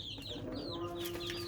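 Native deshi chickens about three months old, kept warm under a single heat lamp, cluck and chirp close by in a steady overlapping chorus with no voices.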